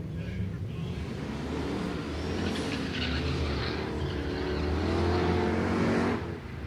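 A hatchback drag car at a street drag challenge, engine droning steadily and building loudly near the end before cutting off, with a commentator talking over it throughout.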